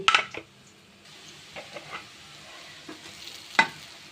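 Spice paste frying for rohu fish curry, a soft sizzle punctuated by quick stirring scrapes and metallic clinks of a spoon against the pot, near and fairly loud.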